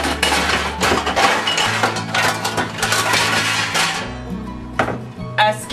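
Pots, pans and dishes clink and clatter in a kitchen while a beef casserole is prepared, with repeated sharp metallic knocks and chinks in an irregular rhythm, close and fairly loud.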